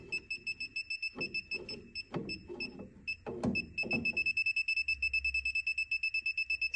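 A Klein circuit breaker finder emits a bright, steady electronic beep pattern, pulses quickening until they chatter rapidly at the end, with some low handling noise early on.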